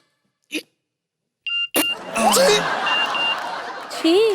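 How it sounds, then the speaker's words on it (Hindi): A short electronic phone notification tone chimes once after a brief sound, then lively laughter and voices take over. "नोटिफिकेशन आया।"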